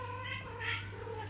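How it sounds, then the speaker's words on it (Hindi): A pet cat meows indoors, one drawn-out, wavering meow up close and fairly quiet, with no one talking. "एक मिनट मैं अपनी बिल्ली पकड़ लूं, म्याऊं म्याऊं कर रही है"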